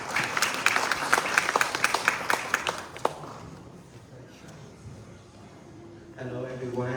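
Audience applause at the Mekong Forum 2025 for the founder and managing director of Cultural Experiences Cambodia, a dense burst of claps that fades after about three seconds into room murmur before a voice begins speaking near the end.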